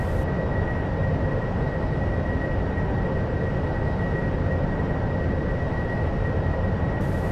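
An AV-8B Harrier's jet engine roars steadily during a vertical landing in the DCS flight simulator: a loud, unbroken rumble with a thin high whine running through it, with no voices.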